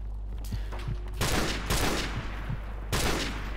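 Gunfire in the video game Call of Duty: Modern Warfare, several sharp bursts of shots over a constant low hum, one heavy burst at the start and another near the end.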